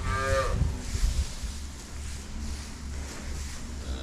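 A cow moos once on a cattle farm, a loud, close, drawn-out low call at the start that fades into steady outdoor background noise.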